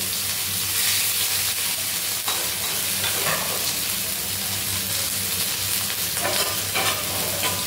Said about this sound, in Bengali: এবার আমি এই পেঁয়াজ, এই আদা রসুনের পেস্টটা দিয়ে দেব